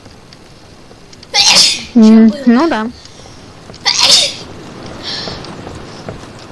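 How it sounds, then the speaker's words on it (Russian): A child sneezes twice, loud and close, with one burst around a short stretch of speech and a second a few seconds later. "Что ты чихаешь и чихаешь?"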